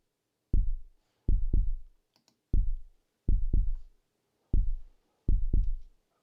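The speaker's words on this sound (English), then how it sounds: "I like that kind of heartbeat sound" Heartbeat-like synth thumps made in Logic Pro's Sculpture instrument land in paired lub-dub pulses, deep and punchy with quick decays, repeating about four times against near silence.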